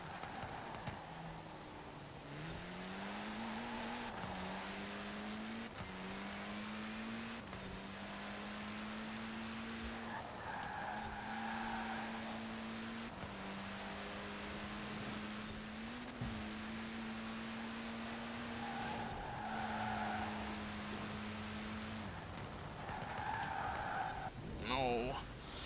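A Ford Fiesta races in Forza Horizon 4, its engine note climbing and dropping back again and again as it shifts up through the gears, with a steady moderate drone and no clear tyre screech.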